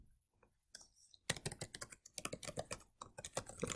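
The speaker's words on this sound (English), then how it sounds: "type in YouTube in the browser" Close, crisp keystrokes on a computer keyboard. A few soft taps lead into a quick, busy burst of typing that goes on to the end.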